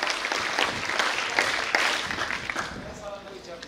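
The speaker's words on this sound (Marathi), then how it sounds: "जोरदार टाळ्या झाल्या पाहिजे विद्यार्थी मित्रांनो" Students applaud at a school career-guidance event, a dense continuous clatter of many hands clapping throughout, fairly far and even in level, with no break in the ovation.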